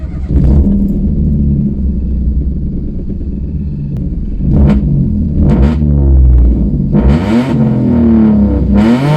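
A stage 2 tuned 97 bhp Toyota Aygo engine rumbles up close and loud, revving and accelerating in several rising pulls with gear changes between them.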